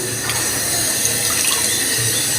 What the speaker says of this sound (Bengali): যে সবজিগুলো ভালো করে আমি ধুয়ে নিতেছি